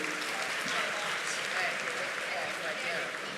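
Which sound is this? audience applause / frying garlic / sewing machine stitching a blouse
audience applause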